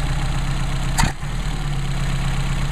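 A Mercedes 190SL engine running on Solex carburetors idles steadily with a low, even hum and a brief click partway through, close and alone with no voices.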